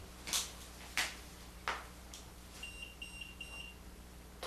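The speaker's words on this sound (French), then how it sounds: "Est-ce que tu peux me donner ton âge en faisant biper l'appareil" An electronic ghost-hunting device beeps in a short series of soft, quick high tones near the end, following a few sharp knocks or taps, in a quiet room during a Halloween investigation at an orphanage.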